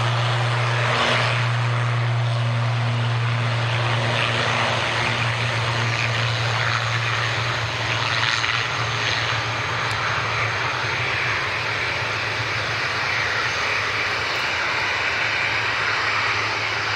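Propeller-driven plane taking off from Dublin Airport runway 10 right, a steady, loud engine drone with a strong low hum that holds for the whole stretch, heard alone without talk.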